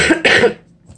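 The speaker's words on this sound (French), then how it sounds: "j'arrêterai pas de tousser." Two harsh, close coughs in quick succession from a woman ill with a urinary infection, the second longer and raspier, then quiet.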